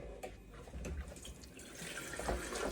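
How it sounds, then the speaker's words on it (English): Water is poured into a container to dissolve an Oust all-purpose descaler sachet, a soft continuous trickle heard faint and close with no talking. "So now what I need to do is I pour this one with water."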